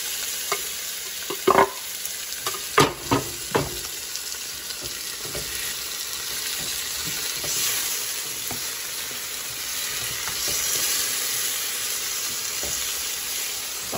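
Chopped tomatoes sizzle with browned onion in a pan, a steady close hiss under a few louder knocks and stirring scrapes near the start.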